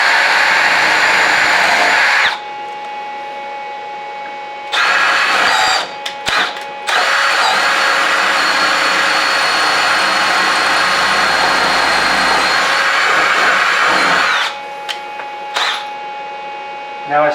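A drill spins at high RPM with a 0.204-inch bit, boring into an Israeli FAL rifle gas block, loud and close in several long whining bursts separated by short pauses.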